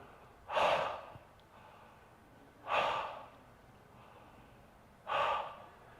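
Three deep, forceful breaths spaced about two seconds apart during a breath work exercise at a strength camp, each a loud rushing exhale that swells and fades, with quiet pauses between.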